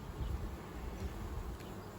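Honey bees hum around a beehive nuc, a continuous low droning buzz close by, steady with slight swells, alone without any voices.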